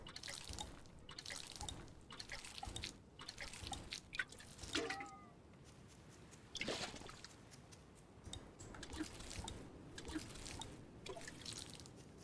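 Watering cabbage seedlings in the farming video game Grimshire, a series of soft watery drips and trickles repeating at an irregular pace across the clip, fairly quiet with no talking.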